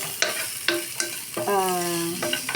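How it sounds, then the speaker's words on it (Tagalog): Pre-boiled meat frying and toasting in a pan, close sizzling with a few sharp clanks of a utensil and a brief metallic ringing tone from the cookware. "Natutoast na yung karne."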